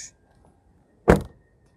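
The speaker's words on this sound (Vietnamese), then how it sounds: "Cái tiếng đóng cửa này." The door of a 2019 Toyota Fortuner diesel automatic SUV shuts with a single solid, heavy thunk, close and loud against otherwise quiet surroundings.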